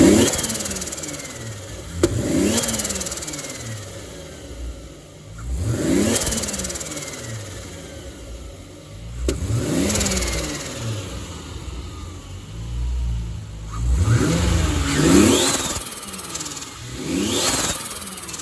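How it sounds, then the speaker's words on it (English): A Toyota Supra Mk4 with an oil-less turbo from CT sounds off in repeated quick revs, the engine rising sharply in pitch and dropping back several times. Each blip stands out loud and close against a steady idle, and no one is talking. "let's give her some quick revs"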